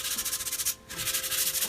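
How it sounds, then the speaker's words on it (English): Rhythmic back-and-forth sanding strokes on the first finish coat of a wood-stained cabinet door, close and steady, with one brief pause midway. "This is our first coat and our first round of sanding."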